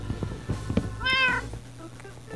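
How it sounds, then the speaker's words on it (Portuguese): A single short meow from a cat in the video game Minecraft, clear and close, set among soft game clicks and a low background hum. "Um gato no Minecraft agora"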